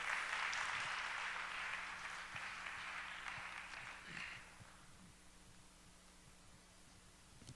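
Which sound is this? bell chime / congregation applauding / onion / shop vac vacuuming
congregation applauding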